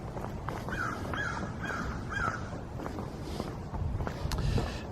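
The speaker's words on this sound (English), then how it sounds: "There's 2 crows in a tree." Two crows cawing from a tree beside a road, a series of four harsh calls in a steady rhythm at moderate distance over light wind and outdoor background noise.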